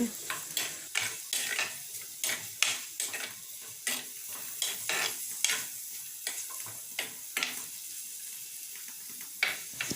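Grated coconut, garlic and ginger sauté in a pan for an egg kurma. Irregular scraping stirs and light utensil clinks sit over a soft continuous sizzle, close up, with no talk.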